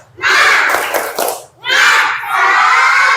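A classroom group of children shouts a loud rhythmic chant with clapping, two bursts separated by a short pause, lively and close.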